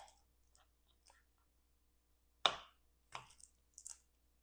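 A knife chopping shallot on a cutting board: one sharp chop followed by a few quieter, quick cuts, close and alone in a quiet kitchen.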